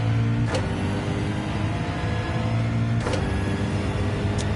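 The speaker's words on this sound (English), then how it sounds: "let you all listen to the engine" BMW race car engine in Gran Turismo 7 droning steadily at high revs through a lap, with a low harmonic hum and brief whooshing bursts as gears change, loud and continuous without talk.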